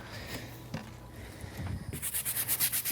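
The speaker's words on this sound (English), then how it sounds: "Scrub it in, small scrubs." Adams tire cleaner being scrubbed into the tire of a Mazda ND Miata with a brush: faint rubbing at first, then a run of quick, rhythmic close-up scrub strokes that grow louder and steadier toward the end.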